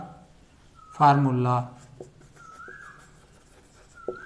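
A physics formula for velocity being handwritten, probably with a marker on a board, heard as thin squeaky strokes and light taps, with a brief burst of voice near the start.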